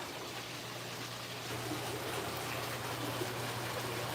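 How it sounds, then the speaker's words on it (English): Running water cascading down an indoor water wall in a university campus building, a soft continuous hiss and patter heard from a moderate distance, growing slightly louder midway. "They have a water wall."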